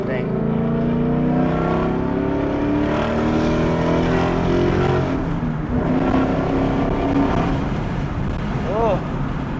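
A car fitted with a Corsa Extreme active valve exhaust holds a loud, close engine drone rich in layered harmonic tones. The pitch climbs and eases over several seconds, and the drone continues without a break.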